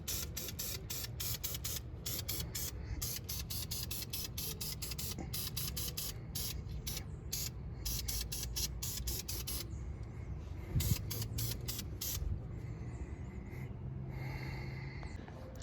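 Short bursts of spray paint from an aerosol can hit a car interior trim part, a rapid series of brief hisses repeating close up and fairly loud, then thinning out near the end.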